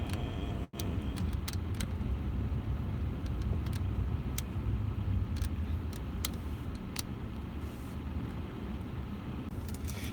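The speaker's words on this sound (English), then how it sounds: "Y'all, I'm in traffic." Steady low road traffic rumble from inside a car stuck in traffic, a continuous near drone with faint ticks and clicks, no talking.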